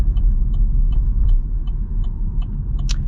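A 2024 Chevy Trailblazer Activ pulls away from a standstill, heard from inside the cabin as a low, steady engine and road rumble with faint rhythmic ticking and no talk.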